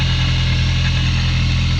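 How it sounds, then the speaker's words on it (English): A Honda S2000 sports car exhaust drones at a steady, loud, close idle with a low pulsing throb, no voices. "Exhaust sounds really clean."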